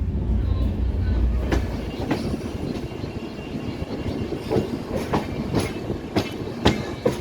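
An Indian railway train rolls along the rails with a steady rumble and a string of rhythmic clickety-clack wheel knocks over rail joints, heard from on board.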